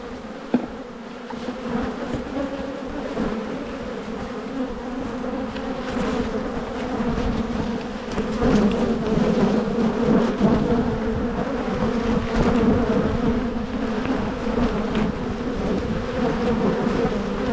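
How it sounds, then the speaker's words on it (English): Dense, steady hum of many honeybees swarming around an opened hive as frames are shaken out, a continuous close buzz with no talk. "So I'll shake the last of these bees out of this other top box."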